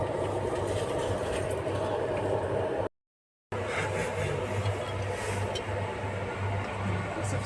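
Inside a train halted at a station, a low steady hum and rumble of the carriage with muffled ambient noise, broken by a brief gap of silence.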